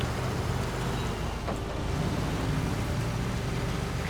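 A truck engine in the video game Snowrunner gives a continuous low rumbling drone, steady and fairly loud throughout, with no talk over it.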